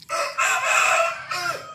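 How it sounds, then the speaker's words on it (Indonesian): A rooster crows loudly and close by in two drawn-out bursts, with a brief cluck at the start and no talk over it. "Sudah dipetok-petokin ayam juga"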